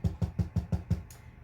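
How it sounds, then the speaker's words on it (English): Stenciling makes a quick, even series of about six soft, dull taps, close by and alone, before a brief faint brushing sound. "I'm stenciling if you're wondering what that noise is."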